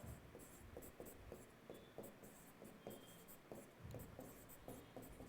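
Marker or chalk writing on a board during a Class 8 mathematics lesson, a steady run of short scratchy strokes for about five seconds, fairly quiet and close, with no talking over it.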